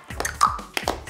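A few sharp hand claps from a parent and child practising sounds at home, quiet and spaced unevenly across a brief moment.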